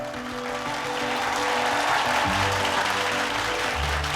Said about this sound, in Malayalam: നിറഞ്ഞ കൈയടികളോടെ സ്വാഗതം ചെയ്യാം നമ്മുടെ ഇൻവെസ്റ്റിംഗ് ടൈറ്റൻസിനെ